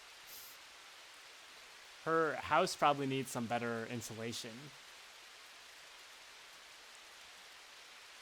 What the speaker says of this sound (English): The rain is kind of loud.